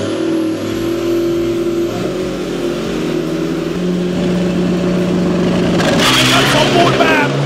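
A drag racing car revs loudly at the line at Racing Mania 2023, its engine pitch climbing before a harsh burst as it launches. A commentator talks over it.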